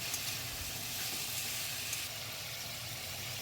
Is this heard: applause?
no